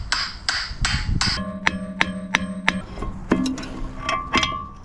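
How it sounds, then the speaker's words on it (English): A hammer taps an axle out of a hub in a series of sharp metallic strikes. A quick run of four hits is followed by slower, ringing taps, close and clear. "Now we just tap the axle out from the hub."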